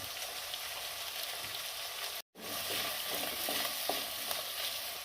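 Sliced onion, ginger and garlic sautéing in a pan, a dense continuous sizzle with light stirring scrapes, broken by a brief silent gap midway, close and steady.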